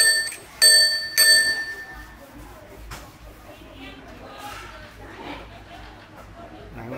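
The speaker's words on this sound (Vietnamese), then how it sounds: "Chuông." Bright metallic rings from the bell on a Giant Escape SL1 touring bicycle, struck three times in quick succession up close, followed by faint handling noises and quiet background chatter.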